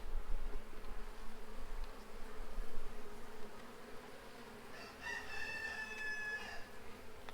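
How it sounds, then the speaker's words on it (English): Honeybees hum in a continuous low drone from an opened hive during an inspection, fairly close and steady, with a rooster crowing faintly in the background partway through. "This is all the way full of bees."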